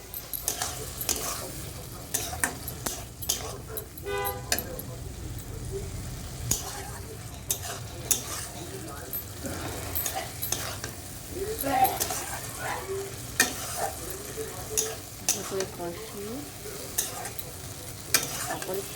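Poppy seed paste with salt and potatoes frying and being stirred in a pan, a faint ongoing sizzle punctuated by frequent spatula scrapes and taps against the metal over nearly twenty seconds.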